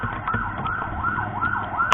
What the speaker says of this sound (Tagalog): May ambulansya pa, may aksidente ata.